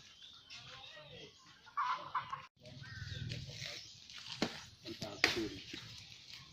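Free-range farm chickens cluck softly in the background while someone talks outdoors, with occasional scuffs and knocks nearby.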